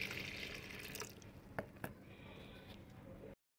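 Liquid fertilizer mixed with a little water being poured into another bucket for a money plant, a steady trickling liquid sound with a couple of brief splashy drips, continuing for about three seconds before cutting off.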